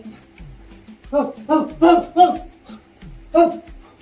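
A man imitates a dog, giving several short, throaty bark-like yelps in a loose cluster and then one more after a pause, close and loud in a quiet room.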